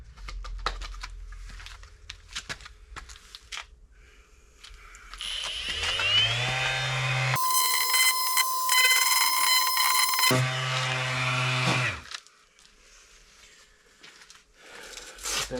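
Power sanding on a rusty Audi A6 C6 fender with coarse sandpaper, a steady loud whirring grind that swells in the middle and then drops back to lower rasping near the end, with no talk.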